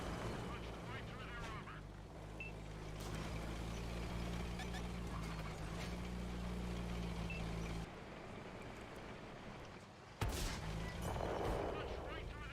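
Tank cannon fire in an armored combat video game, heavy booming shots over a steady engine rumble, with a sharp loud blast near the end.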